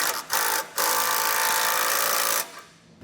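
A power tool runs a nut down onto a bolt while fitting a Demco tabless base plate to a 2015 GMC Canyon. It gives a loud, close, high whir after two brief starts, holding steady for about two seconds before winding down.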